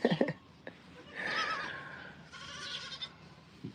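Newborn baby goat, a five-pound kid born the night before, giving a couple of thin drawn-out bleats between short knocks and rustling, with faint background noise.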